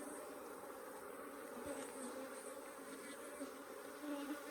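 Africanized hybrid honey bees swarm around an open hive in Southern Arizona, a dense, steady buzzing hum that fills the air without a break, with a few louder passes from individual bees close by.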